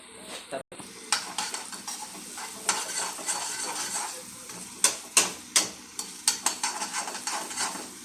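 Peanuts frying in a pan for egg rice, giving a steady sizzle with sharp scraping and clinking strokes of a spatula against the pan, growing more frequent toward the end; no talking.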